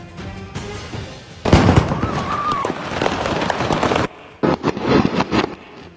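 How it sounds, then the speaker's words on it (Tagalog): Firecrackers exploding at a fireworks store, a rapid dense crackle of bursts starting suddenly and sustained for several seconds, then a short pause before more popping resumes. "Biglang nagpulasan ang mga mamimili matapos marinig ang pagsabog mula sa isang tindahan"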